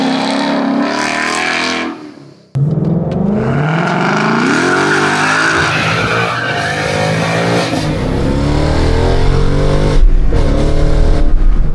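Ford Mustang 5.0 V8 revving and accelerating close by, a loud sustained engine roar that briefly drops off, then surges back with rising pitch and stays strong to the end.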